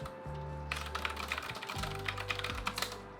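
Quiet typing on a computer keyboard at a desk, a quick run of soft clicking keystrokes over a low background hum, with brief pauses between short bursts.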